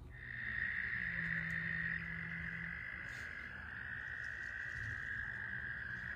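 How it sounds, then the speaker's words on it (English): Frogs croak steadily in a chorus, with a long sustained call over a low background hum, fairly close and without any talking. "That is some frogs burping"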